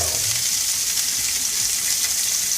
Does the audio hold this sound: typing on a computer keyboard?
no